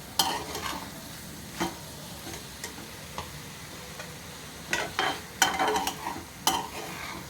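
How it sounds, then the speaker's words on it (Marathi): A spatula stirs a French bean bhaji in a pan, a low sizzle underneath with sporadic clinks and scrapes that grow busier toward the end, close and fairly quiet, no voices. "पुन्हा एकदा हलवून घेऊया."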